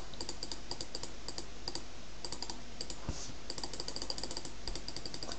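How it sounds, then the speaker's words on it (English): A computer mouse clicks rapidly and steadily, played on Minecraft, with dense bursts of sharp, close, crisp taps over a quiet background hum and brief pauses between flurries. "Sorry if you hear absolute tons of clicking. It's just me mouse"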